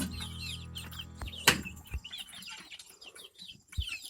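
Backyard chickens gathered around a feeder, pecking at spilled feed and clucking in short, close bursts, with a sharp wing flap or thump partway through.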